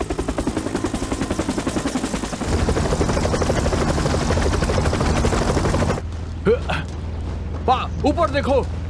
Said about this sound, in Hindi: ऊपर देखो, हेलीकॉप्टर आ रहा है।